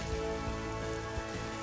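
Steady rain falls on Route 215 in the video game Pokemon Shining Pearl, a constant soft patter with no voices.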